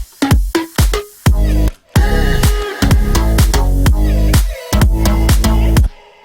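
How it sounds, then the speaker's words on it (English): Dry, unprocessed synth plucks from the Nexus plugin play a bright, rhythmic pattern of short decaying notes with brief gaps, loud and alone without any talk. "the pluck without processing sounds like this"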